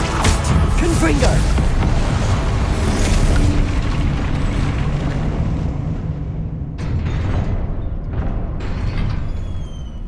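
A Confringo fire spell explosion in Hogwarts Legacy, a heavy roaring blast with rumbling fire that sustains loudly for several seconds, then tails off with some lighter impacts, while a voice speaks over it.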